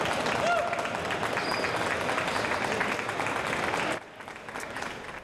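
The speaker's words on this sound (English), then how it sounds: "People still clapped and the markets did open" Crowd applause on the trading floor of the New York Stock Exchange at the market opening, a dense roar of clapping and crowd noise that drops abruptly near the end to a quieter hubbub.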